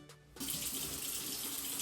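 Tap water runs into a sink to wet hands holding face polish, starting abruptly after a short quiet moment and continuing as a steady, close hiss with no talking.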